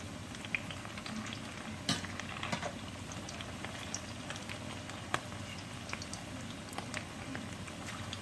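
Tuna burgers fry in hot grease in a pan, giving a continuous moderate sizzle with occasional spoon scrapes and louder crackles and no speech.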